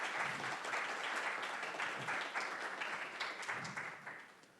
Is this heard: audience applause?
yes